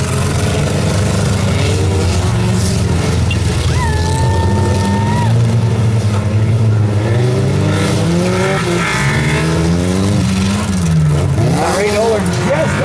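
Mini stock race cars roar around a figure 8 track, their engines revving and droning loudly and steadily as several cars rise and fall in pitch, while an announcer talks over the racing.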